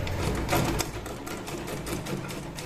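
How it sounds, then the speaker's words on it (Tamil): A foot-pedal sewing machine stitches fabric slowly, a close rhythmic mechanical chatter of needle strokes running throughout without speech. "இது காலில் பெடல் பண்ணுற மிஷின்னனால கொஞ்சம் ஸ்லோவாக தைக்கிறேன்"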